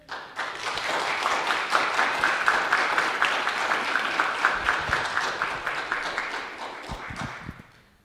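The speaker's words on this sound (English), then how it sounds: "Just hoping for a quick round of applause" Sustained audience applause inside a church during a Sunday service, dense and even clapping from a large congregation that holds steady for several seconds before fading out.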